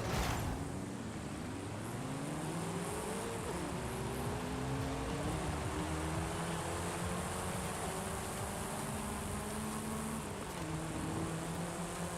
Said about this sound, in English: So much better now that I can hear the engine sound.